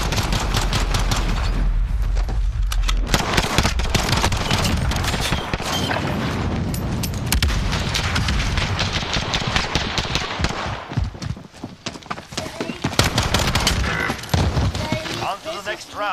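Rapid gunfire bursts and booms from a match of Call of Duty Modern Warfare in hardcore mode, loud and nearly continuous with dense volleys, while players talk over the action.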